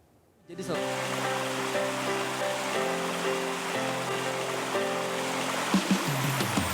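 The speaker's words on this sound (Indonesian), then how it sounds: "Air terjun Songgolangit yang dikelilingi pepohonan layak menjadi destinasi wisata" Songgolangit waterfall on the forested slopes of the Muria mountains near Jepara, Central Java, a steady loud rushing roar of falling water that starts abruptly and holds constant, with a narrator speaking over it.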